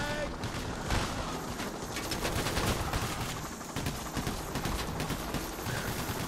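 Dense, continuous gunfire in the co-op video game Payday: The Heist, rapid crackling shots layered over one another with occasional heavier bursts, and voices talking now and then underneath.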